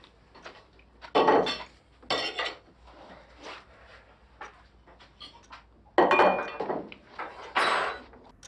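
Dishes and cutlery clink and clatter in a home kitchen, in irregular bursts of louder knocks and rattles with quieter handling sounds between them.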